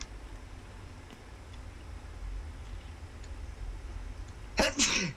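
A single sharp sneeze near the end of a quiet stretch of low, rumbling ambience, set during play of the Alien: Isolation video game.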